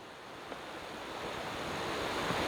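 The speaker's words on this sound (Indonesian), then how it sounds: "Ini kita udah mendekati aliran sungai" A river flowing nearby makes a steady, broadband rush of water that grows slightly louder and closer over a couple of seconds, with no voices over it.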